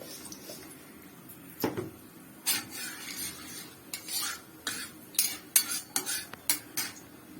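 Dry red chilli and five-spice seeds are stirred in a hot pan for a drumstick chorchori, with a quick series of close metal spatula scrapes and clinks over a faint background sizzle.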